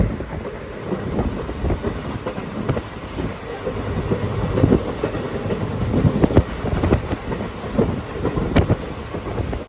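The Madurai to Bodinayakkanur train rolls along its track beside a highway, a steady loud rumble and rattle with wind buffeting the microphone throughout and no speech.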